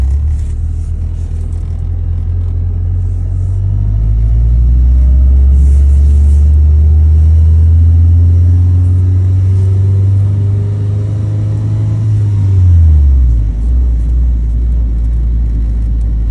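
A budget-build car engine runs on a test drive, a loud, close, continuous rumble whose pitch climbs and sags as the revs rise and ease off, then drops away sharply near the end.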